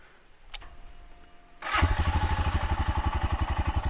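Royal Enfield Scram 411 motorcycle fires up after a brief starter whir, then settles into a loud, close, rhythmic single-cylinder thump at idle.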